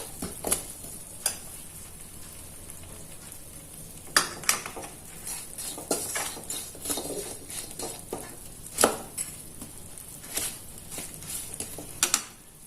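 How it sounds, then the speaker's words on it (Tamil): Almond gum melts in a pan as it is stirred: a soft, low sizzle and faint bubbling, broken now and then by light spoon clicks and scrapes against the metal. "இதையும் நல்லா கிளறி விட்டுறேன்."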